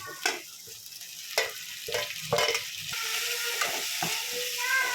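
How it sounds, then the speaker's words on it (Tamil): Drumstick leaves and onion sautéing in a pan, stirred with a spatula: soft sizzle under repeated clinks and scrapes of the utensil, close and moderately quiet, no voices. "நல்லா முருங்கீரை வதங்கணும்."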